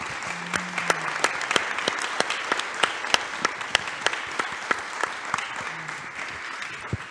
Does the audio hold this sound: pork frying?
no